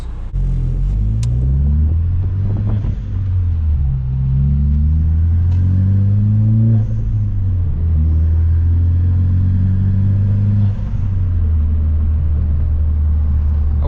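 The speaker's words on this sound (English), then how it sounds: "the blow-off valve is very crisp" Ford Focus ST turbo engine revving with a blow-off valve, close and loud, its pitch repeatedly climbing and dropping over a constant low rumble.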